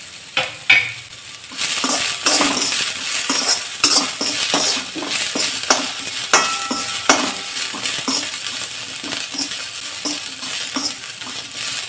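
Onion and white sesame seeds frying in a pan, a loud close sizzle broken by repeated clinking stirs of a spoon against the pan, with no talking.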